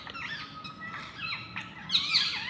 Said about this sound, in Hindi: चिड़ियों की चहचहाट